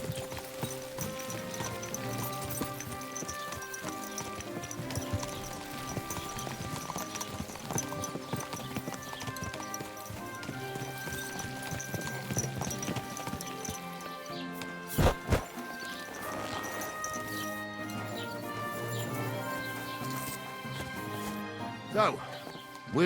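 Horse hooves clip-clopping in the medieval role-playing game Kingdom Come Deliverance 2, a steady rhythmic trot heard under background music and a spoken voice, with a couple of sharper knocks along the way.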